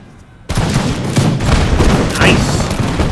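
A volley of carbine gunfire erupts in a black-powder era battle game after a brief quiet moment, with sustained loud cracking and booming shots overlapping for several seconds.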